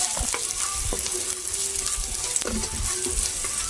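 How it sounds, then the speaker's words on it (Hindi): Chopped capsicum sizzles and fries in a pan as it is sautéed for a mixed vegetable kebab, with a steady crackle and occasional scrapes and stirring clatters. "पहले मैं शिमला मिर्च डाल देती हूँ। बिस्मिल्लाह। इसको भी हम सौते कर लेते हैं।"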